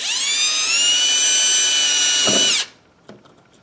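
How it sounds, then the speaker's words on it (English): A step drill boring a hole in a rawhide rattle whines at a high, steady pitch for a couple of seconds, then winds down and stops, followed by a few small knocks. "step drill"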